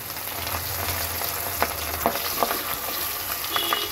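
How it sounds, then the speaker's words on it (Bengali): Rohu fish heads fry in hot oil in a wok with a continuous, dense sizzle broken by sharp pops and the scrape of stirring. "এখন আমি মাছগুলো ভেজে নেব।"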